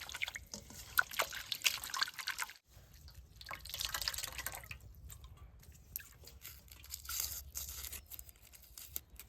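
Water drips and trickles while freshly cut potato leaves are rinsed clean, with small wet splashes and soft tearing, handling sounds in a steady close pattern and a brief quiet gap early on.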